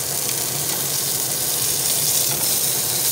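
Steak and sweet peas cooking in a pan: a loud, steady, close sizzle with a constant hissing, watery frying texture and no talk.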